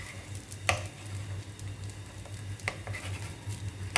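A rava dosa frying on a hot pan, a steady soft sizzle with a couple of brief scraping clicks from the spatula as it is loosened and turned.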